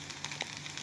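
An egg and potato patty sizzles in melted butter in a pan, a faint, steady frying crackle with a few soft pops and no voices.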